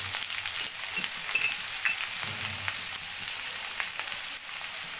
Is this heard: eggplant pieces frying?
yes